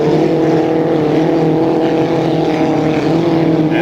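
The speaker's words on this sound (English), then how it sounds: "The silver and red boat is the 53, driven by John Shaw" Hydroplane race boats in a heat race thundering by, a loud continuous engine roar with steady droning tones that stays close and unbroken.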